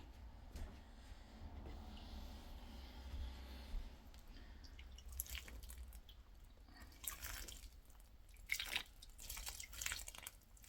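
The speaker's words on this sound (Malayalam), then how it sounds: "ഇനി ഇതിൻ്റെ അകത്തേക്കും കുറച്ച് വെള്ളം ഒഴിച്ചു കൊടുക്കട്ടെ" Soft trickling and dripping water poured into an indoor plant pot, quiet and close, with a few brief wet splashes toward the end and no voices.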